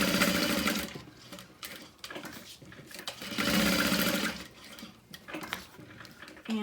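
Sewing machine basting an eighth of an inch from the edge of fabric for a wristlet, running in two close, loud bursts of rapid stitching separated by short pauses.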